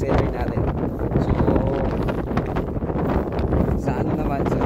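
Wind gusts steadily across an open farm lot in Cuyapo, Nueva Ecija, buffeting the microphone with a constant low roar, while someone talks over it almost throughout.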